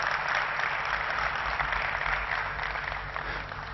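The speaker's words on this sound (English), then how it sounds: "Could you applaud if you cried?" Keynote audience at a gaming event bursts into sustained applause, a dense, even wash of clapping from a large crowd that holds steady and tapers slightly toward the end, with no voices on top.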